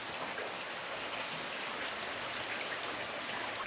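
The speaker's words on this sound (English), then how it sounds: "tonight it's raining out, and it's cold out, actually. Can you hear that? Listen." Steady cold night rain falling outdoors, a dense even hiss of drops spattering on surfaces, continuous and close with no voices.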